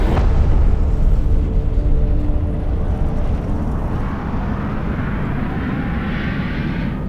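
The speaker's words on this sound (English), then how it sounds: "Liftoff of the Soyuz rocket" A Soyuz rocket lifts off carrying a crew to orbit, a loud, dense, continuous roar with a sharp onset that stays heavy and rumbling throughout, heard from a distance with no voices.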